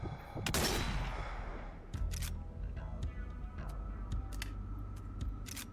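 Gunfire in the Zombie Army VR shooter as zombies are picked off: a loud close burst of shots at the start, then scattered sharp single reports and metallic clicks over a continuous low rumble of game ambience.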